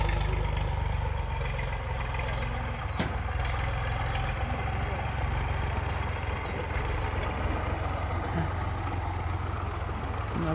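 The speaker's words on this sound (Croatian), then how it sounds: "evo stiže traktor sa topom" Tractor hauling a trailer approaches at an outdoor prayer site in Sagonjevo, Toplica region, a faint, steady low engine drone running throughout with scattered bird chirps above it.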